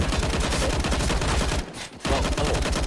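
Dual Berettas pistols fire rapidly in a professional Counter-Strike match at the ESL Pro League. Dense bursts of shots rattle almost without pause, broken once by a short quiet gap before the firing resumes.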